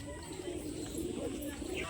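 Low, soft pigeon cooing rolls on continuously, fairly close, with faint background noise throughout.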